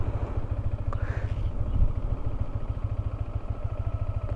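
A Yamaha MT-15 motorcycle engine idles with a steady low thumping beat, its tone shifting slightly partway through as the clutch is slowly released and engages on flat ground.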